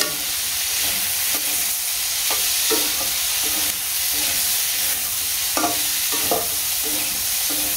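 Potatoes and leafy greens stir-fried in a pan, a steady close sizzle broken by irregular scraping stirs of a spatula, with no talking.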